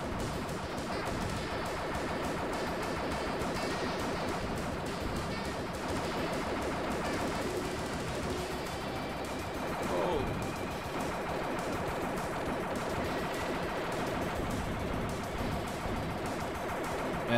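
Rapid gunfire from a weapon in the retro video game Total Eclipse crackles almost without pause, dense and busy, layered with other game sounds at an even level throughout.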